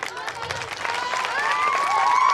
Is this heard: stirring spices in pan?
no